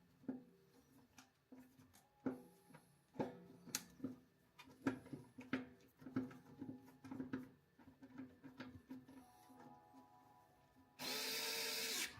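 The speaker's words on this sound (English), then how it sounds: "Put those screws in" Screws are driven with a power drill during a bearing installation, with short spaced whirring bursts and clicks followed by a loud sustained high whine at the end, close and with no talking.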